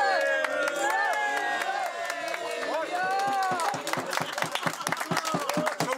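A carnival crowd cheers and whoops at a mock wedding, many voices overlapping close by, and then rhythmic group clapping builds in sharp, regular beats beneath the shouting.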